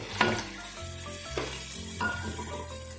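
Katla fish kalia masala in a village kitchen pan sizzles as water is poured in, with a sharp burst followed by steady frying hiss and a few stirring scrapes, close and moderately loud with no talking.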